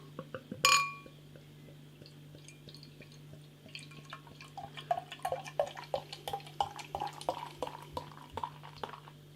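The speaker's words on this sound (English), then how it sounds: "let's get this beer out into a glass and see what we get" Sainsbury's Taste the Difference Suffolk Blonde wheat beer is poured into a glass: a sharp clink of bottle on glass, then a bubbling, trickling pour with fizzing and small clinks building over several seconds, with no voices.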